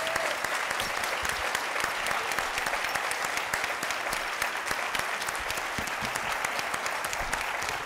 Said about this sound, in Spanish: Un aplauso para nuestro tercer panelista.